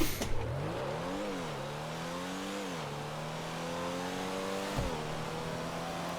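In GTA 5, a Comet S2 Cabrio launches and accelerates hard, its engine note climbing, dropping at each gear shift and rising again in a steady rev pattern with no talk.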